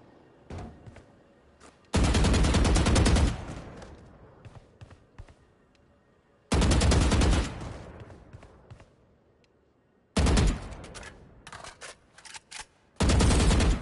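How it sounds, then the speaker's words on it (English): Automatic weapon fire in the shooting game Valorant, aimed at moving practice bots: three loud sustained bursts lasting a second or more each, separated by quieter gaps with faint clicks and game noise, with a fourth burst starting at the end. "move to face each bot, then stop, and shoot while standing still"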